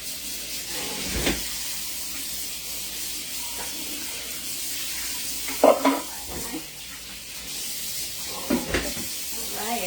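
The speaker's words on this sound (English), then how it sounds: "here the peppers, the onions are sizzling" Peppers and onions sizzling in a pan while taco filling cooks, a steady broad frying hiss with occasional stirring clatters and utensil knocks, under a quiet voice.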